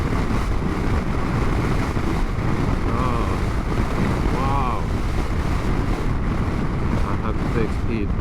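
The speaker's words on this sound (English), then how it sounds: "it's not steady wind, it's just pushing from time to time." Gusty wind buffets a motorcycle rider on a summer trip through Northern Norway, a loud continuous rumble of wind against the microphone that swells and pushes in gusts, with engine and road noise beneath.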